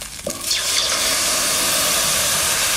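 A brief clatter, then a loud, steady rushing hiss as a little water hits a hot pan of fried fish and keeps seething evenly.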